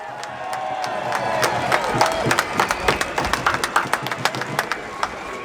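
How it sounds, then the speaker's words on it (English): Crowd at an outdoor rally against an emergency services levy bill claps and cheers, a sustained wash of applause with sharper individual claps growing more distinct toward the end. "Give yourselves a round of applause for it."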